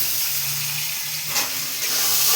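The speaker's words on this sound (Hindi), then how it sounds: "हमारा आलू भी भुन जाएगी" Potatoes and onions with red chili frying in a pan, giving a steady, close hiss and sizzle throughout with a low hum beneath, no voices.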